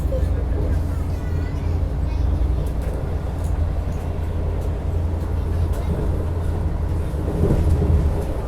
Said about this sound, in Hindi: इसको भी पैरेलल ओवरटेक मार रही है अपनी ट्रेन